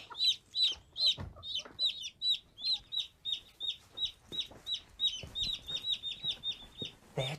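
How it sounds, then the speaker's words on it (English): Chicks only a few days old cheeping at close range in a hen house: rapid, steady series of thin high chirps repeating throughout, with light rustling underneath and no talking. "can you hear a cheeping sound?"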